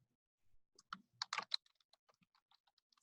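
Quiet, close computer keyboard typing: a short burst of rapid key clicks, then scattered lighter taps trailing off, with no voices.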